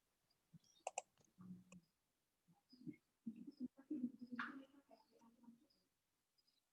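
Computer mouse clicking during an online religious class, a quick cluster of sharp clicks early on followed by faint scattered ticks, with low murmuring sounds and a brief higher chirp in the quiet room.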